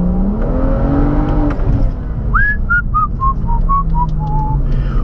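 BMW 135i with a 340 hp engine revving, its pitch climbing at first, followed by a series of descending whistling tones over a steady engine drone.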